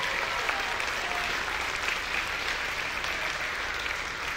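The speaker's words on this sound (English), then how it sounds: "yes, big round of applause for that." A big round of applause from an audience at a theater event, a continuous wash of clapping that holds steady at a moderate level from start to finish.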